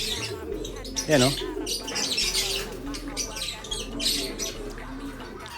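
Pigeons coo and chirp in a loft of fancy birds, soft calls scattered throughout and a brief louder burst early on, mostly beneath someone talking.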